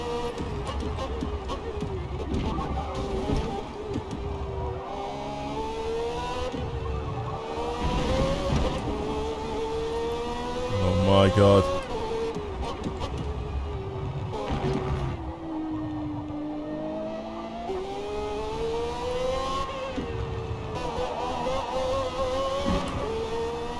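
Race car engine in Forza Motorsport rising and falling through revs and gear shifts on a track lap, a continuous loud whine with sweeping pitch changes, a voice talking over it at times.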